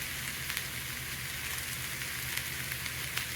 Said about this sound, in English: So let it simmer.